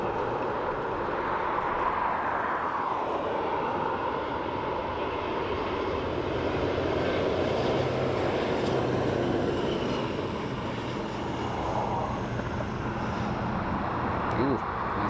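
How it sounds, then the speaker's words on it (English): A Ryanair airliner arriving at Dublin Airport from Liverpool gives off a steady broadband jet roar that holds level throughout, with a faint voice talking over it. "So this is Ryanair in from Liverpool."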